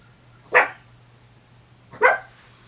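A dog barks twice, close and fairly loud, with the short, sharp barks spaced about a second and a half apart over a faint steady hum.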